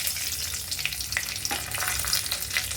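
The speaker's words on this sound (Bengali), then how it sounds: "তেলেতেই আমি দিয়ে দেবো একটু কালো জিরে অল্প পরিমাণে আর দিয়ে দেবো দুটো পাকা লঙ্কা" Nigella seeds and red chillies crackle and sizzle in hot oil for a hilsa fish dish, a steady close frying hiss broken by small pops and light stirring taps.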